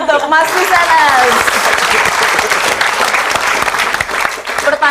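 Studio audience applause on an Indonesian television talk show, loud and dense, sustained clapping throughout with a voice rising above it at the start.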